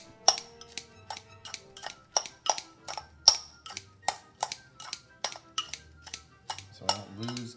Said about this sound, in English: I'm going to massacre the bacon into bits